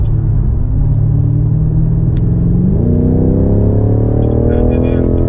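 A BMW M5 Competition accelerates hard out of a corner on the Indianapolis Motor Speedway F1 road course, its engine note climbing steadily as the revs rise, loud and close, with a brief click partway through.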